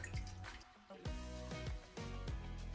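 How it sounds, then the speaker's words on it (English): Water pours into a baking pan around flan for a water bath, with soft trickling and dripping close by plus faint cracking noises at a quiet level. "So I'm gonna pour enough water in here"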